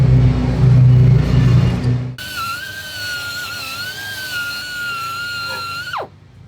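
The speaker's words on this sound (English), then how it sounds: "we're going to use the grinder" A grinder fitted with a wire wheel cleans rusty lawn mower blades, a steady loud high whine that follows a heavy rumbling burst and winds down at the end.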